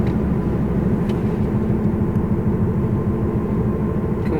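A car coasting downhill at about 30 mph on asphalt with a bent rim gives a continuous low road rumble and a faint repeating wobble; no one speaks.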